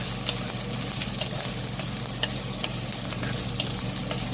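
Shallots sizzle and crackle in hot oil in a pan while an Indian moringa leaf dish is being cooked, a steady dense fry heard up close with no talking.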